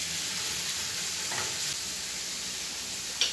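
A stew with garlic for a Colombian bistec a caballo fries in a pan while being stirred, making a soft, even sizzle with faint scraping and a short clink near the end.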